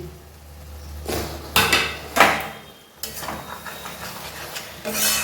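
A spoon stirs and scrapes boiled-egg bhurji with kasuri methi and chopped green chilli in a pan, giving a few distinct clanks and scrapes over a quiet background.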